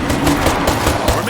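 Rapid automatic gunfire in the zombie video game State of Decay 2 rattles in a loud, dense burst of repeated shots, close and continuous, with voices faintly under the gunfire.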